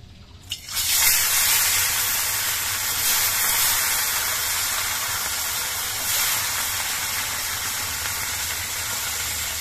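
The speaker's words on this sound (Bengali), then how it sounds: "তেলটা খুব ভালো মতো গরম হয়ে গেছে, এবার মাছগুলো ভেজে নিচ্ছি।" Fish frying in well-heated oil in a wok, a steady loud hiss and sizzle starting abruptly as the fish go in and continuing unbroken throughout.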